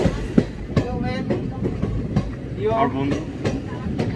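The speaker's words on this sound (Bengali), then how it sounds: "ট্রেনে উঠে পড়েছি, তিস্তা তোষা" The Teesta Torsa Express rolls along with a steady rumble and recurring clickety-clack wheel knocks, heard from inside a carriage while people chat nearby.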